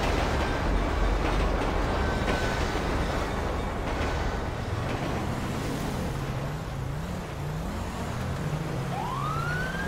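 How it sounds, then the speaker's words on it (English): A GTA 5 train rolls past in a loud, continuous rumble of wheels and rail noise, with a rising siren wail weaving through the latter half. "Mr. Jones, stop the train!"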